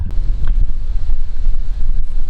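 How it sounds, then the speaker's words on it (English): Steady, loud wind buffeting a microphone, a continuous low rumble with gusty fluctuations throughout. "It's windy today."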